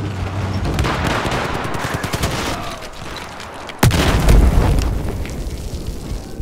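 Battlefield 4 combat on the Gulf of Oman map: dense, continuous gunfire and rumbling blasts, then a sudden loud C4 explosion boom with a deep low-end roar as firing continues behind it.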